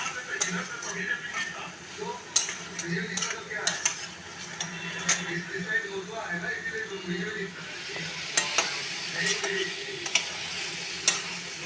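Pulao ingredients sizzle and fry in a pan for Bengali prawn pulao while a utensil stirs and scrapes with irregular clicks and knocks against the metal, close and moderately loud throughout.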